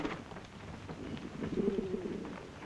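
Pigeons coo softly at moderate distance outdoors, a low rolling murmur rising through the middle of the short stretch over faint background ambience, with no talk.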